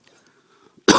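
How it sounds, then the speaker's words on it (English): A single sharp cough from a person recovering from an illness bursts out loudly at the very end, after near silence. "I still got a little bit of a cough residual from when I was sick."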